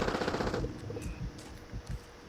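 Video game gunfire: a few muffled, scattered shots and short bursts crackle at a moderate distance over a busy battle-noise bed, with no voices.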